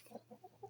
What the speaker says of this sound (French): C'est une poule araucana.